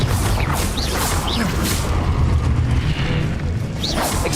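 A Confringo blasting spell detonates in a Hogwarts Legacy fight, with a dense, continuous roar of booming blasts and crashing impacts, loud and sustained, while brief whooshing swishes flicker over the top.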